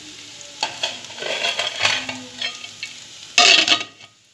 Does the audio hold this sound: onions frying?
yes